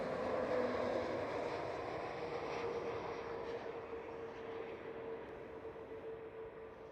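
EasyJet Airbus A320 airliner at Schiphol Amsterdam, a steady distant jet engine roar with a faint tonal whine, fairly quiet and slowly fading.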